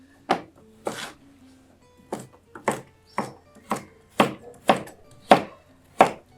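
A knife chops arracacha root on a cutting board with about eleven sharp, close knocks in a fairly even rhythm, each one clear and alone with no talking between them.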